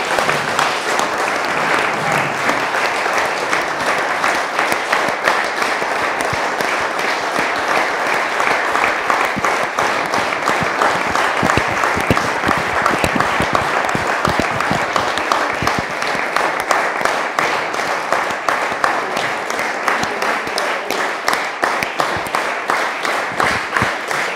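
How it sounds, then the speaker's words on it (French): Steady applause from a large audience at a French municipal council meeting, sustained and loud throughout without pause. "vous avez applaudi"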